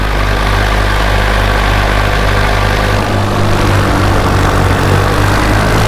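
A Top 80 paramotor engine runs steadily and loudly up close at a beach landing zone, a constant droning roar with a deep low hum and no break throughout.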